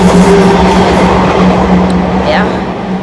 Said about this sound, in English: So the train is passing.